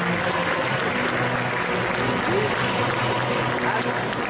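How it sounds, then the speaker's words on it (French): Loud, sustained audience applause at an indoor cosplay contest during a festival, a thick continuous roar of clapping with scattered cheers and voices in the hall. "On peut l'applaudir bien fort."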